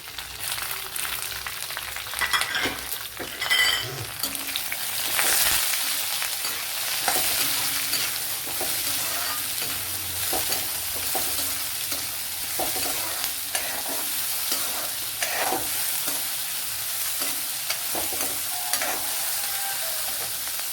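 Onion and curry leaves frying in a pan, a continuous crackling sizzle with frequent scraping and tapping as the mixture is stirred, no voices.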